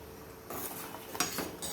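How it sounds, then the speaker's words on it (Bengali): A spoon scrapes and stirs rice for payesh in a pot over a low flame. Two or three soft strokes sound close and quiet in an otherwise still kitchen. "চাল সেদ্ধ হয়ে আসা অবধি নাড়তে থাকবো একইভাবে লো ফ্লেমে"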